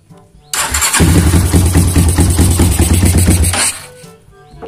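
Honda GL motorcycle with a brong exhaust and stock Tiger ignition and CDI, starting with a sharp crank and settling into a loud, lumpy, rapidly pulsing idle for about three seconds before cutting off, with no talking.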